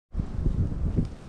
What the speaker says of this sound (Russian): У нас сегодня сильный ураган, ветер